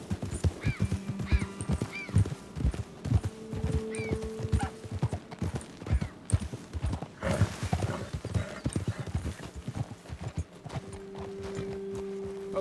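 Horses ridden at a steady walk in Red Dead Redemption 2, loud rhythmic clip-clop of hooves on dirt with occasional snorts and a whinny, heard alongside background game ambience.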